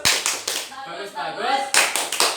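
Short bursts of group clapping from a classroom-style gathering come at the start and again near the end, with a person speaking between the bursts.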